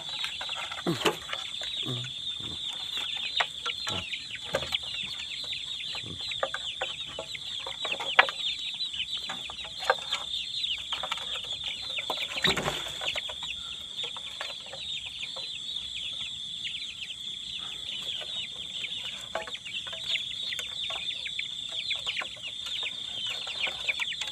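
A flock of chickens clucks steadily for a long stretch, with scattered nearby clucks and squawks over a constant high, thin buzz in the background.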